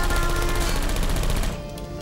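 Turrets firing in the puzzle game Portal 2, a loud rapid machine-gun rattle that runs steadily, then thins out near the end.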